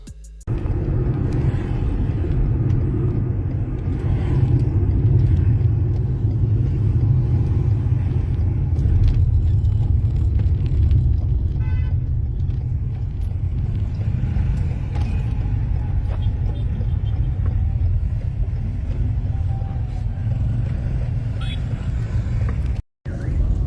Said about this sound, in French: Voilà, je suis dans la voiture là